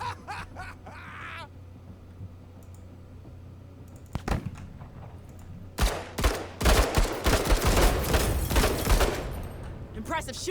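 Gunfire from a Marine in a video game: a couple of isolated shots, then dense rapid bursts and volleys building to a loud sustained fusillade near the end.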